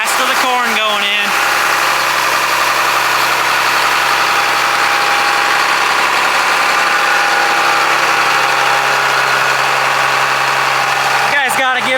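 A tractor engine runs during a corn harvest, holding a loud, steady, close-up idle with a vibrating drone, while brief voices are heard at the start and end.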